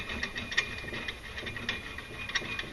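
A nut being ratcheted down onto the threaded rod of an EPI CCT520 clutch compression tool, giving quiet, rapid ratchet-pawl clicks in short uneven bursts over a low mechanical background.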